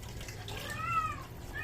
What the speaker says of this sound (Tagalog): Yun yung sign na naglalandi ang pusa. Yung ganyan ingay.